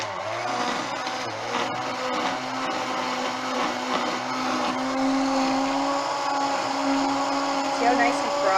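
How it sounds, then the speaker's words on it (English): A stick blender whirs continuously at close range, frothing coffee with a steady motorized drone, its pitch shifting slightly as it churns the liquid. "I'm going to whir it up with the stick blender"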